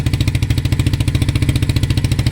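A Vader 125 motorcycle engine idles close by at night, a steady, even low chugging pulse with regular firing beats and no talk over it.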